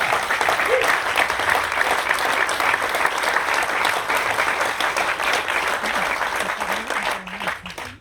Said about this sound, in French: je voulais qu'on les applaudisse devant